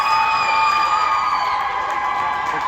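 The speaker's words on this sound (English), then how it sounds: "The crowd getting into it over here" Crowd cheering at a youth Squirt B2 hockey championship game in a rink, a loud sustained wash of shouts and high whoops from parents and kids, a whistle tone ringing through.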